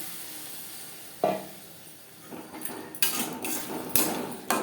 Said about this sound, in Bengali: লো টু মিডিয়াম ফ্লেমে 3-4 মিনিট মশলা বেশ ভালো করে কষিয়ে নেব।